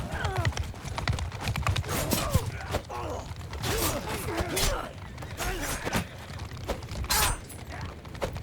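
Horses gallop in Mount & Blade II: Bannerlord, their hooves clip-clopping in a fast, dense rhythm for the whole stretch, with occasional neighs and creaking tack layered over the pounding.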